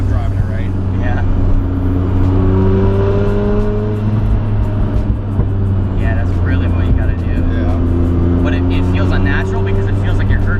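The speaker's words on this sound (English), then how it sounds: "These Wankel motors just want to go. They want to rev up." Mazda RX-7 FD (1993) Wankel rotary engine droning steadily from inside the car while driving, a continuous loud hum with rising and falling rev tones and faint speech in the background.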